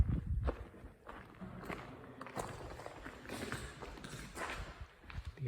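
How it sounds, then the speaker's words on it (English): Irregular thuds and knocks from building in-wall bunk beds out of 3/4 inch plywood, a scattered series of muffled impacts at a moderate distance with faint background noise. "that banging you can hear is the bunk beds"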